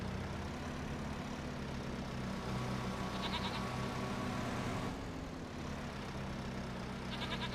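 Sheep bleat faintly in the Farming Simulator 25 farm game, brief cries set against a steady low engine drone from machinery.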